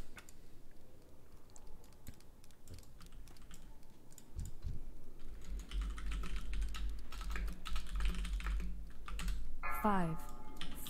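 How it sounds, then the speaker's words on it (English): Computer keyboard keys pressed in quick bursts while running a heroic Steamvaults dungeon in World of Warcraft TBC Classic, close and crisp over game sounds. "Hit a button on a keyboard and it's good to go."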